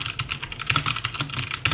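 Fast typing on an unmodded Aula F75 mechanical keyboard, close up, with sharp irregular clacks and a slightly hollow rattle.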